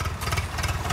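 A tractor engine idles at a potato harvest with a steady, pulsing low chug that stays close and fairly quiet. No one speaks.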